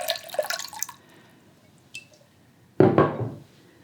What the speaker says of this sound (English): When I'm designing, I usually fill the vase about halfway full.